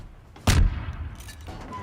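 A cannon firing and blowing up during a roleplay battle in a Shingeki no Kyojin-themed video game: one loud, close booming blast that rolls off into a long rumbling tail, with no voices.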